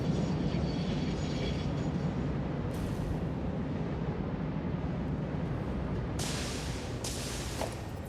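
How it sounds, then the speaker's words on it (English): A train rumbles past in the factory-building game Satisfactory, a loud, steady rolling roar with brief hissing bursts partway through and no voices. "Oh, train's going."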